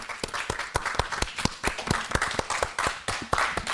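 Audience applauding a theatre troupe at a children's festival show, a steady run of distinct, fairly close hand claps rather than a dense roar, moderately loud throughout.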